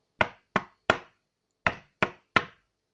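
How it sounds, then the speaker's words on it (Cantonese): Someone knocks on a wooden door in two crisp groups of three, close and clear, with a short pause between the groups and silence all around. "小白兔又敲咗一下門"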